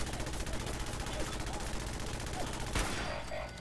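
Hunting rifle gunfire in Fallout 4, rapid shots crackling steadily under game noise for about three seconds before cutting off sharply, leaving quieter ambience behind.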